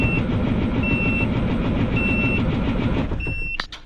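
An engine cranks over continuously under a steady, loud mechanical roar, with high electronic beeps repeating every second or so; it cuts out abruptly just before the end.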